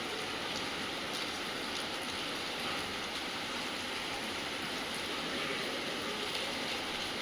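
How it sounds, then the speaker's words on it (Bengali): Heavy rain pours steadily outdoors as a dense, even hiss with no breaks and no voices. "বেশ ভালো বৃষ্টি পড়ছে"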